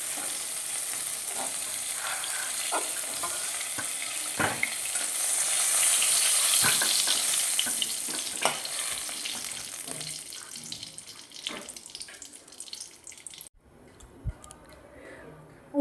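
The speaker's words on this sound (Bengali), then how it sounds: "এবার আমি দিয়ে দেবো কেটে রাখা বেগুন।" Cut eggplant fries in hot oil for shukto, giving a steady loud sizzle broken by scattered clinks and stirring knocks. The sizzle fades abruptly near the end, leaving a quieter stretch with a few sharp taps.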